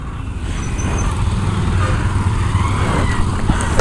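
A 2008 Yamaha R1 motorcycle being tow-started outdoors, with a loud steady engine and road rumble that swells slightly and masks any other detail.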